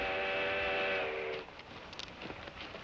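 Steam whistle of a locomotive in a 1955 Western film, a sustained harmonic tone for about a second and a half, followed by the softer rumble and clatter of the approaching train.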